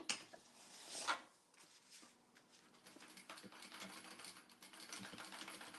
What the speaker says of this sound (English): now I'm just going to baste this other end right here